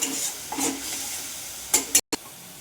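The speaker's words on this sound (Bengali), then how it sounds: "সামান্য জল দিলাম, দিয়ে কষবো" Spice paste with a splash of water sautés in a pan, a low sizzle broken by several sharp spoon-stirring scrapes and clinks against the metal, close up and without talk.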